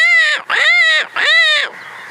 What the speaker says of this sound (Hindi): ये कौवे मंडरा रहे हैं अभी भी